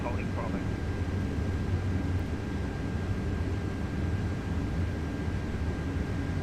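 Rolls-Royce engines on an Airbus A330-200 in a flight simulator give a steady, continuous low hum and rumble that fills the whole clip at an even level, with a faint high whine running through it.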